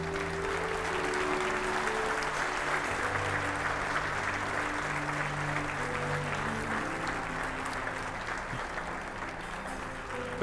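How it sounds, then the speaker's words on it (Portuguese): A church congregation applauds together, a steady, sustained wash of clapping filling the room, with sustained organ or keyboard chords ringing underneath throughout. "Você pode dar ao Senhor mais um forte aplauso."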